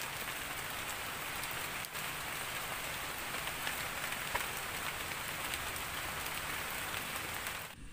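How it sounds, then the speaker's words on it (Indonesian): Heavy rain pours steadily on a campsite in the forest, a dense, loud, unbroken hiss that lasts throughout. "Hujan makin deras dan hari pun makin sore."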